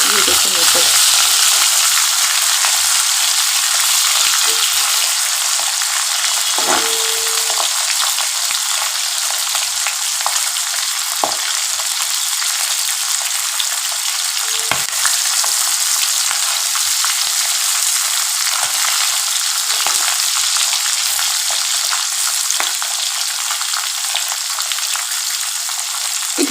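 Pabda fish frying in oil for a spiced pabda dish, a steady close bright sizzle and crackle running throughout with occasional small pops and stirring clicks, no voices.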